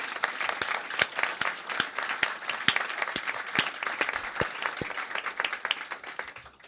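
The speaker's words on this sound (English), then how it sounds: "Please give Martin a big round of applause" An audience at a formal discussion event gives a round of applause, with sharp individual claps standing out over a softer crowd wash, moderately loud and steady for several seconds without talk.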